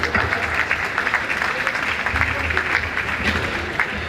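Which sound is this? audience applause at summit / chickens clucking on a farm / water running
audience applause at summit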